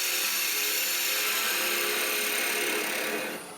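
A half-inch bowl gouge cuts maple burl wood spinning on a lathe, giving a continuous loud broadband scraping whir that fades slightly near the end.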